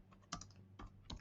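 Quiet keystrokes on a computer keyboard during live coding, three short clusters of clicks, close and alone with no speech.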